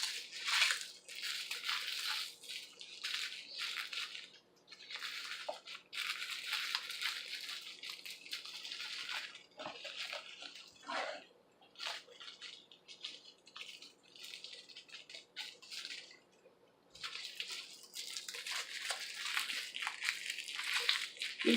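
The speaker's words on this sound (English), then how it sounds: "These cracker crumbling sounds are pretty good for some ASMR, aren't they?" Crackers crumbled into crumbs by hand for a WWII-era rice and pecan loaf, a steady run of dry crunching and crackling bursts, close and fairly quiet, pausing briefly now and then with no talk over it.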